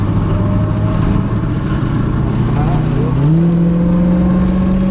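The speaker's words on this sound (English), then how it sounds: "you can reel on the gas a little bit" A car accelerates on the Mid-Ohio race track, a loud close engine drone holding steady and then stepping up in pitch as the throttle opens, heard from inside the car with talk over it.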